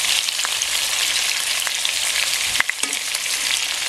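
Pork pieces frying in a cooking pan for pochero, a steady bright sizzle running throughout with a few sharp spatter pops and a soft scrape near the end, no talking.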